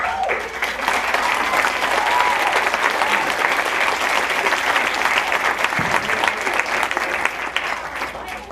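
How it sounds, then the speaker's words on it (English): An indoor audience gives volunteers a round of applause at a community storytelling show, with steady, dense clapping from a large crowd that runs throughout and fades slightly near the end. "Round of applause."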